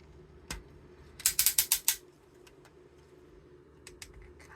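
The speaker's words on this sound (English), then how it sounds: "One of those very tight ratchets." A tight ratchet joint on a Transformers Studio Series Constructicon toy clicks in a quick burst of five or six sharp, close snaps, with a few fainter isolated clicks before and after in an otherwise quiet room.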